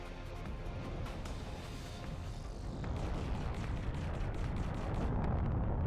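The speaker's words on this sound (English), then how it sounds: "those little turrets are shooting at us" Small turrets firing in X4: Foundations space combat, a dense, steady rumble of booming shots layered with crackling bursts, getting louder in the second half.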